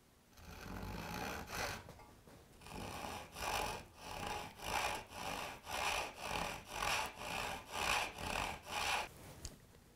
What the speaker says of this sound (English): my first cut is actually a cross cut. So I am switching to my carcass saw for this operation.